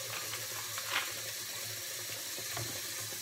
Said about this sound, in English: get a really, really large bowl, fill it up with cold water